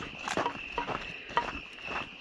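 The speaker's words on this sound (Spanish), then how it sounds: "Hay unos que ni se escuchan como grillos" Crickets chirp at night outdoors as a steady, continuous high trill, with soft scattered rustles and patter close by underneath.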